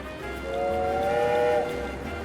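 A train whistle sounds in the Tropico 6 video game, a single sustained, moderately loud tone of about a second with a low background hum.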